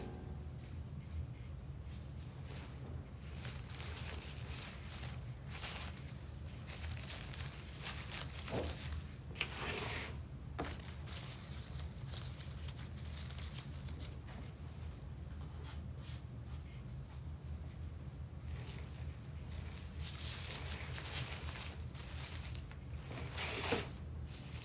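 Scissors cutting through plastic deco mesh for an Easter bunny wreath, a steady crinkly snipping and rustling texture held close throughout, with brief sharper crunches and no talking.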